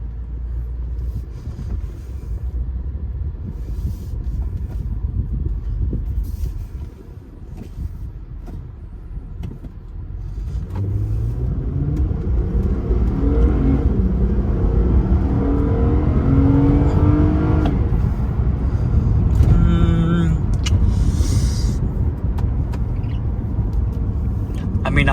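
A car fitted with a throttle body spacer accelerates in sport mode, its engine rumbling steadily and then building into a louder, rising surge heard from inside the cabin, with speech partly over the engine.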